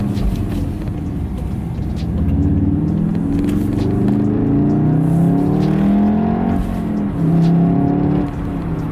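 A 2019 VW Golf R on lowering springs accelerating hard, engine note climbing steadily through the revs with a shift and a renewed pull, loud and close from inside the car.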